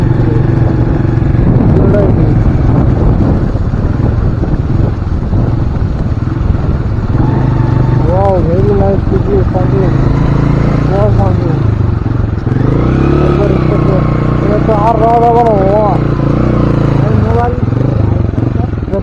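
Motorcycles run steadily along a road, a continuous loud engine drone with some clatter and revving that stays up close throughout, while people talk over it.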